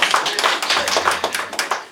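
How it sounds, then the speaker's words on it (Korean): A church congregation claps during a Sunday sermon. Quick, uneven claps from many hands form a close, lively burst of applause that lasts about two seconds. "설교 시간에 요셉한테 박수한 교회는 우리밖에 없어요."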